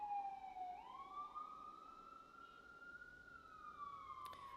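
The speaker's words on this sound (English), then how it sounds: "And here comes the sirens." A siren wails in the distance, its pitch sweeping up and holding before slowly falling, faint over a quiet background.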